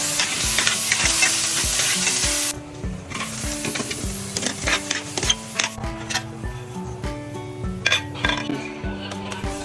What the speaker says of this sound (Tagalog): isusutay muna natin yung ating potato at ang ating carrots na medyo maluto sila ng konti